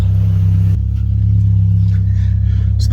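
A Mitsubishi Evo X engine revs hard and loud on a data-logging pull, a steady droning roar close to the microphone that holds for a few seconds without talk.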